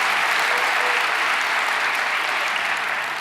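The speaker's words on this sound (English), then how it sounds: "And I think they need a big round of applause." A large gathering applauds at a school district welcome-back event, a dense, steady wash of clapping that holds loud and even throughout with no voices on top.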